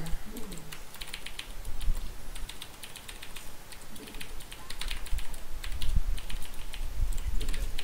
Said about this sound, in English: I'm very bad about double clicking on my hotkeys, I just realized.